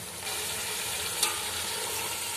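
Chicken biryani masala is stirred in a pot after salt is added, making a steady hissing sizzle with faint scraping throughout and one small clink near the middle.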